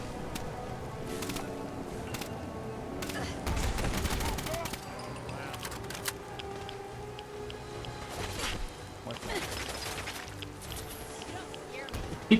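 Rapid gunfire bursts in Fallout 4, a fusillade of shots in the distance and nearby that comes and goes over a steady game backdrop, with a voice speaking at times.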